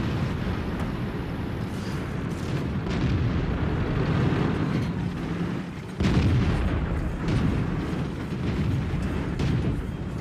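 Tank cannon fire in a tank combat video game with an Indian tank battling a T-150: heavy booms and rumbling blasts roll on continuously, loud and dense, with one sharp shot standing out midway.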